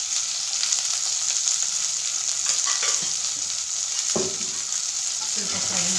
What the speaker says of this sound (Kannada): ಸ್ವಲ್ಪ ಫ್ರೈ ಮಾಡೋಣ.